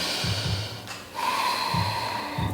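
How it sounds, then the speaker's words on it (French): Loud, close breaths through the nose during a yoga flow, a few sharp snort-like inhales and exhales in an uneven rhythm. "On inspire, on expire."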